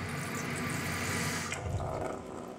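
Water from a Kohler shower with a new cartridge runs steadily as a loud hiss, then tapers off gradually as the valve shuts slowly, with no banging at the end.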